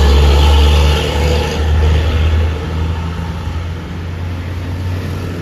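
Buses heading from Aceh toward Medan pass near Tanjung Pura, opening with a loud, close, low engine drone that fades into steady traffic noise.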